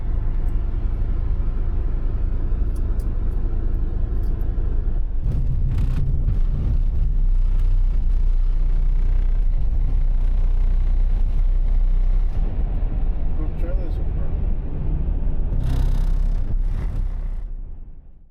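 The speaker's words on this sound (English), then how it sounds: "the cars are just going on now" Vehicles roll onto a ferry bound for Ireland, heard as a steady deep engine rumble and loading-deck noise that continues for about eighteen seconds before fading at the end.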